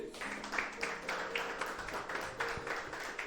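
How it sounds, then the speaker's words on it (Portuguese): A congregation claps along during an evening blessing service at a church in Rio Negro, Paraná, steady rhythmic clapping in the room with music and voices faintly underneath. "Vamos aplaudir a Jesus bem alegre"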